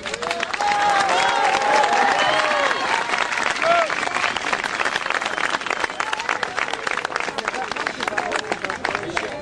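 A crowd applauds a government minister at a French gathering, with sustained dense clapping and a murmur of voices and scattered calls mixed in throughout.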